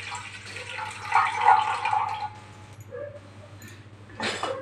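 Water pours into a bowl in a kitchen, a short close splashing trickle lasting about two seconds, followed by a brief clink and a faint second splash at the end, with no talk.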